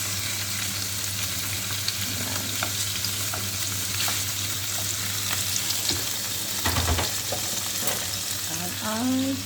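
Beans sizzle steadily in a hot pan for adobo, a dense crackling fry with occasional stirring scrapes and a brief louder bubbling burst midway.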